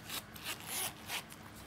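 Zipper of a pebbled leather Kate Spade zip-around wallet is drawn in a few short, quiet scraping strokes, close up and with no talking.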